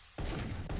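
Gunfire in the video game Darkenstein 3D, fired at enemy grunts: a loud, dense burst of rapid shots bursts in after a brief quiet moment, with a second burst following right at the end.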